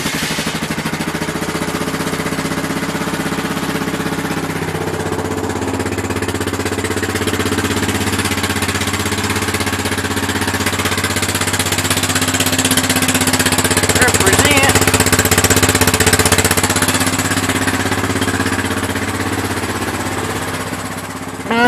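A 1997 Honda Foreman 400cc ATV engine runs after a choked cold start, a steady loud mid-pitched chugging idle that holds for about twenty seconds and swells slightly louder near the end.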